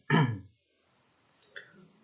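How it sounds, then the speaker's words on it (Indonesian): A man who is ill gives a single harsh cough or throat-clearing burst up close, followed by silence and a fainter second rasp. "Jadi maaf kalau tadi ada agak batuk-batuk ya."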